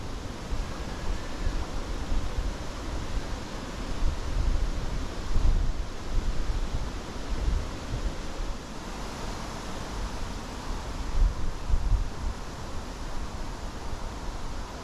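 Strong wind gusts buffet the area by the water during a fishing outing, a continuous broad rushing roar with swells and lulls and no talk.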